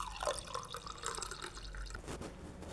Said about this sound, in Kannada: ಈಗ ಒಂದು ಗ್ಲಾಸ್ ಆಗುವಷ್ಟು ನೀರು